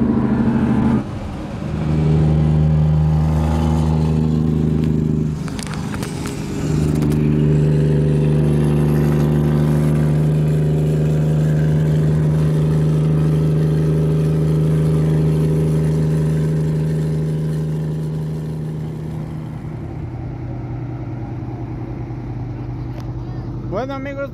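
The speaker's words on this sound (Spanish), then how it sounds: "Qué chulada venir escuchando estos motores Cummins que rugen como leones." Heavy Cummins diesel engines drone steadily while travelling on the highway into Guadalajara, a deep sustained hum under someone talking, with a brief louder rush near the start and the engine noise easing toward the end.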